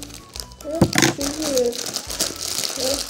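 Scissors cut into the plastic packaging of a toy doll during an unboxing, with close crinkling and crumpling plastic and a few sharp snips, while someone talks over it.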